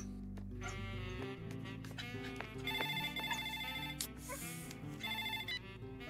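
An electronic telephone ring tone plays through the earpiece during an outgoing call, a repeating melodic warble with short pauses, fairly faint and alone with no talking.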